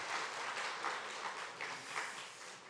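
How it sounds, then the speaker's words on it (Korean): A church congregation at a Sunday morning service claps to welcome visitors, a dense, steady burst of many hands clapping at moderate level, alone without talk. "자리에 일어서시면 박수로 환영하겠습니다"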